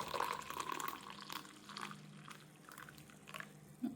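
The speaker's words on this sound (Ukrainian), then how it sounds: "Зразу каву наливаю в термокружку" Coffee pouring and trickling into a travel mug, a soft steady stream with a few light clinks, heard close up in a quiet room.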